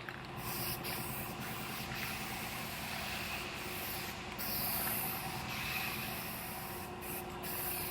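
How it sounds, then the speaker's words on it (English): A steady, close hiss of guide coat being sprayed onto the sanded bedside panel of a Ford F150 truck, continuous and even for the whole stretch with no talking. "Now I'm gonna put a guide coat on it."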